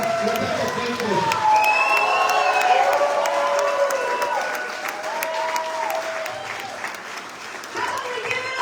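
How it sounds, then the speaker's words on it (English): Crowd at a Wisconsin political rally applauding and cheering for a gubernatorial candidate, steady clapping with whoops and shouts rising over it, loud and sustained before easing slightly toward the end. "Let's give a big round of applause for the next governor of the great state of Wisconsin, Rebecca Kleefisch."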